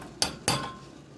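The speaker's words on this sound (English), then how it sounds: "1/4 cup of beeswax. We're going to throw it in there." Beeswax pieces for a homemade salve dropped into a metal pot: two distinct clunks a quarter second apart, close and bright, then quiet.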